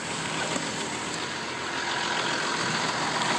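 A 2008 Kia Mohave KV300 4WD with about 157,000 km on it idles with a steady, even engine drone, close and continuous with no talking.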